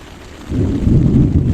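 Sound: thunder during a storm at a beach campsite

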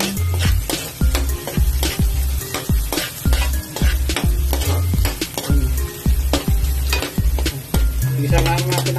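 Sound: sautéing with bay leaf in a pan

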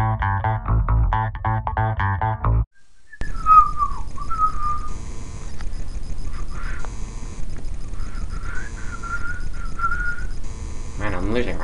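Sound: person whistling

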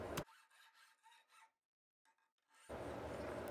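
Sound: filing a steel auger bit blank with a file

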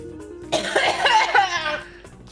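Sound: cough

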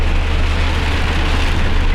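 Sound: rainstorm with hail hitting a van

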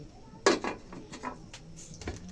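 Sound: pot lid being put on a cooking pot

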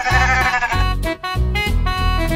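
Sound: sheep bleating

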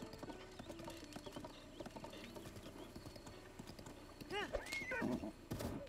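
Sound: horse hooves clip-clopping in video game Breath of the Wild

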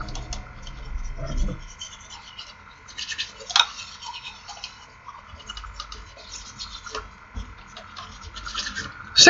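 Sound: toothbrush brushing upper teeth, gums and palate

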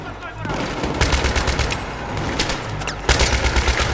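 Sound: gunfire in the video game Battlefield 3

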